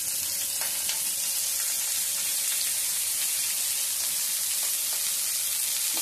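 Parboiled cauliflower frying in a pan gives off a dense, loud, continuous hiss of hot oil, with a few faint scrapes of a spatula scattered through it and no talking.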